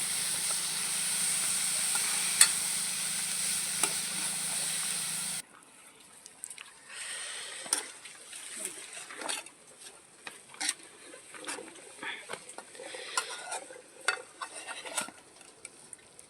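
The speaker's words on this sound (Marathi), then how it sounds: "याला मस्त मिक्स करून घेऊ." Wild mushrooms are stirred and mixed in a pan with soft scraping and light patter. A loud hiss opens the sequence, then quieter, irregular stirring sounds follow.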